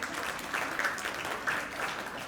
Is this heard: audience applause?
yes